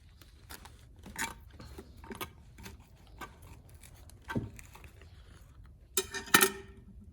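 A blade cutting into a root-rotted euphorbia cactus, quiet scattered scraping and crisp snipping ticks, ending in a brief louder crunching tear; close and faint, with no talking.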